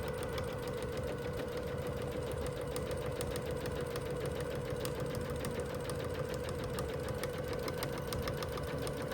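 A sewing machine runs continuously while stitching a messenger bag seam, a steady, even mechanical whir with a fast needle clatter and no pauses, close and moderately loud.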